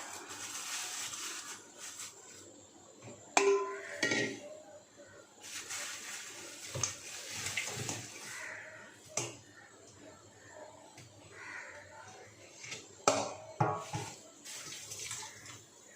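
Raw chicken is washed by hand under running tap water in a home kitchen, a soft steady trickle broken by splashes and handling noises.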